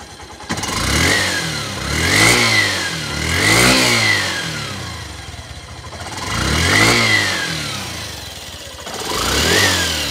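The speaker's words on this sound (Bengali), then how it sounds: "এবার আপনাদেরকে গাড়ির ইঞ্জিনের সাউন্ডটা একটু শুনিয়ে দেওয়ার চেষ্টা করব। গাড়িটা কিন্তু এখন স্টার্ট অবস্থায় আছে।" A Yamaha Saluto 125 motorcycle with about 1950 km on it idles smoothly and is revved several times, each throttle blip swelling and falling back, loud and close with no voices.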